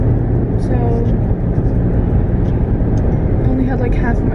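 A car drives along on the way to work, its engine and road rumble filling the background as a steady, loud drone under continuous talking.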